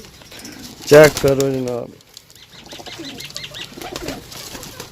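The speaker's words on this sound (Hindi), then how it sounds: "नंबर वाले कबूतर टोटल 10 पीस" Pigeons kept for sale in Sarai Alamgir coo nearby, with a brief loud burst of calling and soft wing flaps, while someone talks intermittently in the background.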